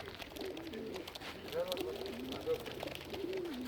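Soft, low cooing of racing pigeons in a basket, several burbling calls close by, mixed with murmuring voices and a rustling background.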